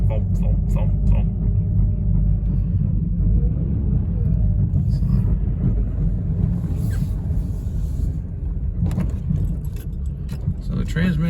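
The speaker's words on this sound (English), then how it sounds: "I definitely have some really bad tires. You can actually hear it. Thump, thump, thump, thump." Old daily driver that sat for seven years, rolling on very bad tires, gives a heavy low rumble with a repeating thump and some rattling, while a person talks over it.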